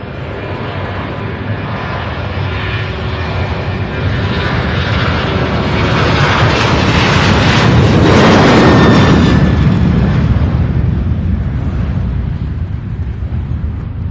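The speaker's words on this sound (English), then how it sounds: "The next landing here is Southwest 4098 out of Midway, their Warrior 1 aircraft." A Southwest Airlines jet on Warrior 1 livery arriving from Midway lands at Louisville International Airport, a loud, steady engine roar that swells to a peak midway and then eases slightly, with no voices.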